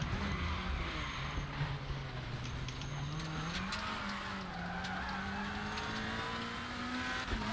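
A Volvo WTCC 2017 race car in the RaceRoom sim game brakes hard, tyres squealing and skidding as the fronts lock, the engine note dropping then rising again, loud and continuous.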